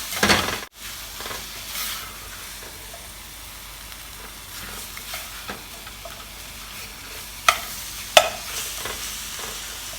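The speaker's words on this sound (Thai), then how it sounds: "ผัดให้เครื่องแกงกระดูกหมูเข้ากันนะคะ" Curry paste stir-frying with pork bones for a Thai pork bone curry, a continuous close sizzle with rhythmic stirring scrapes and a couple of sharp utensil knocks against the pan.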